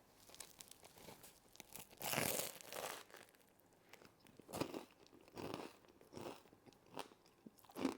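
Bites into a beef meatball sub with marinara sauce and melted mozzarella, giving a series of close, crunchy tearing bites followed by soft chewing, repeated in bursts every second or so with no talking.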